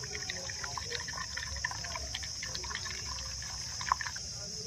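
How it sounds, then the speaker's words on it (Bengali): Water poured into a basin for soaking old silver jewellery, a soft steady trickle and light splashing with a few drips, close and continuous with no talk. "আর একটু জল দিয়ে দেব।"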